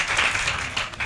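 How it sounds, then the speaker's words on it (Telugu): Church congregation at a special fasting prayer meeting clapping in praise to God, a dense, lively wash of many hands clapping at once, fairly close and steady throughout. "చప్పట్లు కొట్టి దేవునికి స్తోత్రం చెప్పాలి."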